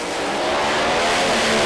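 Pro Mod drag racing cars, including a Mustang, roar in a loud, steady full-throttle blast at Santa Pod Raceway, racing side by side down the strip with dense engine noise and no break in the sound.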